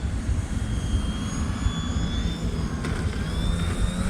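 A seaplane's engine drones steadily and loudly through a water takeoff as the plane lifts out of the water, a continuous, even roar with no voices.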